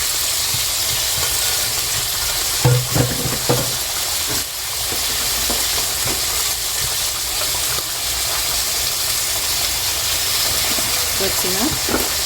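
Onions and sausages sizzle and crackle steadily in shallow oil, a loud, continuous frying hiss with occasional stirring scrapes and clinks.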